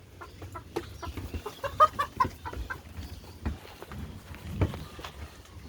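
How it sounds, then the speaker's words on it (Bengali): A desi hen clucks in short, repeated bursts close by, with soft scratching and movement sounds in between. "এটা একটা দেশি মুরগি, পিওর দেশি মুরগি,"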